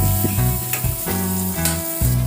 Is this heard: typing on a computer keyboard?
no